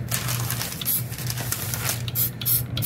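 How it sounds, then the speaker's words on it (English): Bursts of hissing spray from an aerosol can, several short pulses in an uneven rhythm over a low background hum. "You keep spraying until it runs"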